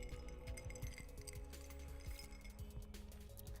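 Ice cubes clinking against a drinking glass, small repeated chinks and taps scattered throughout at close range over a steady low background.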